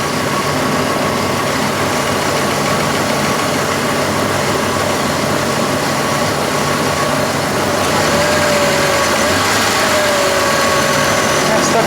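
A worn, clapped-out 4-liter engine with metal in its oil idles loudly and steadily nearby, its rough drone joined by the whine of a noisy alternator and a faint tick throughout.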